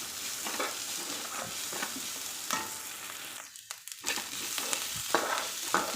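Onions sautéing in a pan for a drumstick-leaf poriyal, a soft, steady sizzle with periodic spatula scrapes and a brief quieter gap near the middle before the frying resumes, with no voices.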